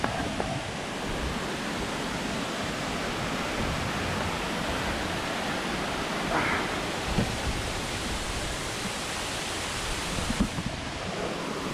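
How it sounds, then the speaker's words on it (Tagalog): Batlag Falls pours in a steady, even rush of water, a broad continuous roar close by with no clear speech over it. "yun o, ang ganda ng falls"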